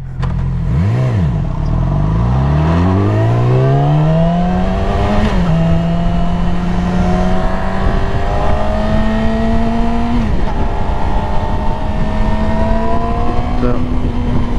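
A Yamaha YZF R6 sport motorcycle engine, new with few miles, is rolled on and off the throttle, with a loud close revving that sweeps up, dips, then climbs and holds at a high whine with small surges.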